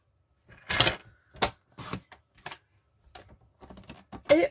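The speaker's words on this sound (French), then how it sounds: "J'ai du mal avec ce massicot." A paper trimmer slices through cardstock with a handful of sharp, separate clicks and cuts, heard up close against near silence.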